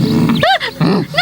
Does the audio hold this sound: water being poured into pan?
no